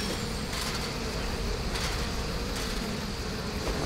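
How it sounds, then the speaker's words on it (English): A dense swarm of bees buzzes in the video game Trine 2, a steady droning hum that holds at an even level throughout with no speech. "There's a lot of bees."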